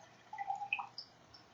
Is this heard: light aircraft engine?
no